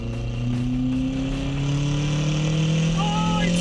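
A car fitted with a cheap $130 turbo revs hard, its engine tone climbing slowly and steadily under a loud, continuous roar heard from close by.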